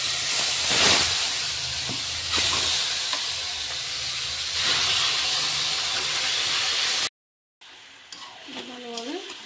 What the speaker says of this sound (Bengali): এবার আমি আগে থেকে ম্যারিনেট করা চিকেনটা দিয়ে দিচ্ছি।